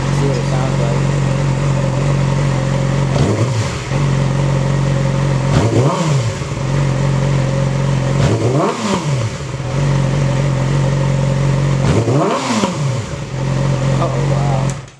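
A Yamaha R6 sport bike with a TOCE exhaust idling loudly up close, blipped four times into sharp rising revs that drop back to a steady idle.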